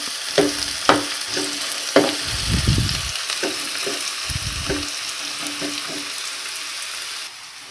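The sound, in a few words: onions frying in hot oil on low flame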